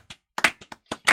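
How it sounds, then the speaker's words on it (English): A room of people giving a slow clap: a handful of separate, fairly loud claps spaced out irregularly over about a second, each a sharp broadband burst with a short decay. "this deserves an entire room slow clap"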